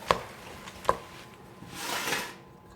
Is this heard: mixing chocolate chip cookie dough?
yes